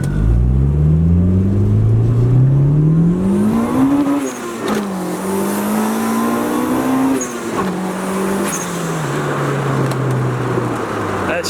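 A turbocharged Honda B16B car pulls hard under boost. The engine pitch climbs steadily, drops briefly at the gear changes and then climbs again, loud and close throughout.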